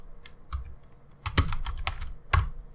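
Keys clatter on a computer keyboard in a quiet room, a run of light irregular taps with a few louder, sharper strokes near the end, no voices.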